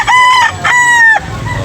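A rooster crows loudly and close by in a morning farm setting in Cebu, a single drawn-out cock-a-doodle-doo in several rising and falling segments, with no voices over it.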